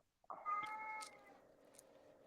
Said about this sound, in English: even my cat was crying